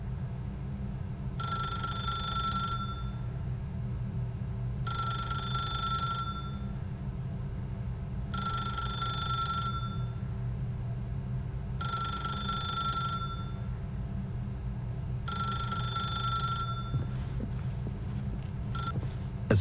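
A telephone rings in The Stanley Parable video game, five evenly spaced ring bursts of about a second each with pauses between, clear and steady over a low background hum.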